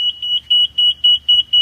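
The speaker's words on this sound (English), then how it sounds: "When you have an alarm, the piezo will sound and the light will flash." A piezo buzzer on a laundry washer's Softrol FPD controller beeps in rapid, even, loud high-pitched pulses, about eight in quick succession, with no other sound.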